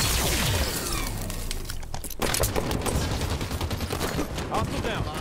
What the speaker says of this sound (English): Tossing a nade.